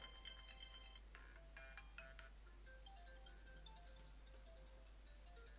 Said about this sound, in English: there's just some new additions on the ringtones and text tones